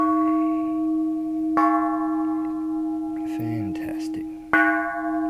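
A Japanese bronze Buddhist temple bell rings with a sustained, steady hum, and a fresh strike renews it twice. Brief handling noise and a short spoken remark come between the strikes.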